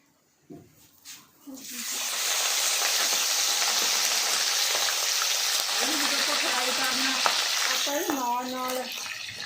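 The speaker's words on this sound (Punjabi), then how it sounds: "ਹੁਣ ਆਪਾਂ ਇਹ ਚਿਕਨ ਫਰਾਈ ਕਰਦੇ ਆ" Chicken pieces fry in a pan for a homemade desi chicken dish, giving a loud, steady sizzle that builds after a few seconds of quieter clatter and runs on continuously, with a little voice in places.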